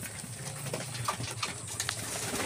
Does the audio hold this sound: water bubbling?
no